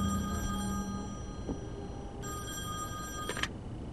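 Telephone ringing in The Wolf Among Us video game, a faint, repeated electronic bell ring in two bursts over quiet background.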